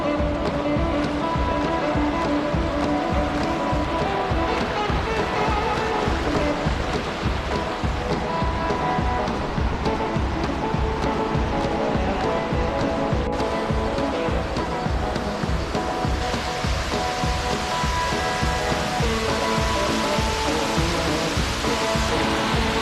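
A waterfall roars steadily and loudly on a trail in Sengés, Paraná, Brazil, a dense, constant close rushing with no speech over it.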